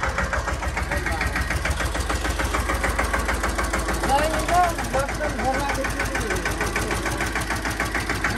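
A tractor hauling cattle fodder on a village farm runs with a steady, close mechanical chug and rhythmic knocking that holds constant, with voices heard over the engine.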